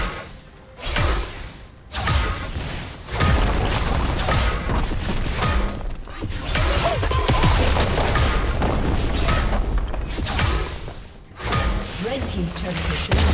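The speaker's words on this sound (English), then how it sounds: "Red team's turret has been destroyed" Turret destruction in League of Legends: heavy booming explosion impacts and crashes pile up amid dense game effects and music, with a game announcer voice talking over them.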